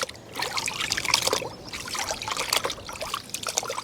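Water trickles and splashes over a naked motorcycle being rinsed during a wash, an uneven, close spattering dribble with no talking.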